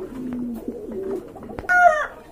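A pair of local pigeons coo in low, soft, rolling phrases close by, followed by a sharp tap and a brighter, louder call near the end, set against a faint background murmur.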